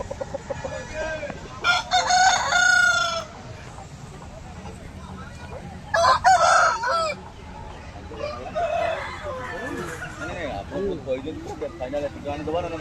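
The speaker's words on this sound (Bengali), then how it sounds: "তোমরা অবশ্যই এই মুরগিগুলো নিতে পারো এই মুরগিগুলো খুব ভালো কোয়ালিটি" Chickens clucking and squawking in bursts, with a rooster-like call, over a busy market background where people talk.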